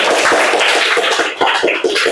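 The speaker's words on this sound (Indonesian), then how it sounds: "tepuk tangan buat kita semua." Schoolchildren in a classroom clap their hands together in a quick, uneven burst of many small claps, close and fairly loud, with a brief dip partway through.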